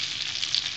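Eggplant sizzles steadily in a hot pan as it is added, a loud, even hiss of frying with no talk.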